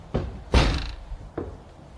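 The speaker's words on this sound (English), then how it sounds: "the farmer pushed the great bar into place across the stable door" A heavy wooden bar is shoved into place across a farm stable door, giving three dull thuds with the middle one loudest, close by and without voices.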